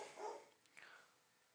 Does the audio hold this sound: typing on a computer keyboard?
no